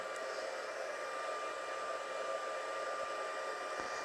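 A heat embossing tool blows hot air in a steady, even whoosh with a faint whine, constant and unbroken, quiet and close with no talking.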